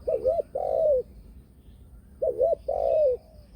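A male dove calls twice, each call a short rolling coo followed by a longer sustained one, clear and fairly close over faint background noise.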